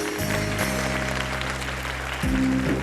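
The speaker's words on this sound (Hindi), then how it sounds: "तालियों में।" A studio audience claps briefly during a televised iftar discussion program, with the applause sitting under steady tonal music and a low hum.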